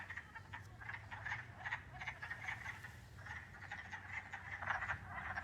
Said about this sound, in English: I'm guessing that these are frogs.